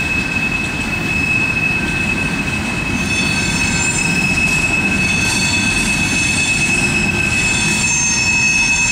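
A CSX freight train rolls into Hamlet Terminal with a loud, continuous low rumble while a piercing high-pitched wheel squeal rings steadily over it, joined by shriller overtones.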